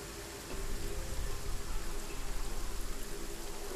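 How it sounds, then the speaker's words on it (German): Rain in the video game Skyforge on the island of Naori falls as a steady, dense hiss with soft pattering, continuous and even throughout. "Mit ein bisschen Regen."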